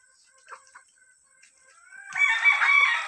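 Chickens at a market, with a loud rooster crow bursting in near the end after a quiet stretch of faint background sounds.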